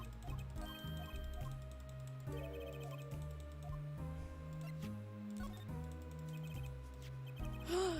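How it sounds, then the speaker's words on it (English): A string of rapid, crisp mouse clicks taps through dialogue in Apollo Justice: Ace Attorney, close and steady against soft, tuneful game music. "Excessive clicking until he stops talking."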